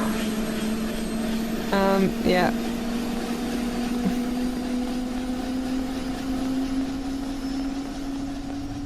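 Steady drone of a helicopter engine in the Panicore video game, heard from a distance as a constant hum with a brief voice in the middle.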